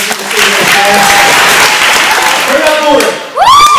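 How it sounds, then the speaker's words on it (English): Audience applause fills a hockey awards banquet for a youth pee wee division, steady broadband clapping throughout with brief whoops and cheers near the end and voices mixed in. "let's give a round of applause to Barry Barton for the head of the team"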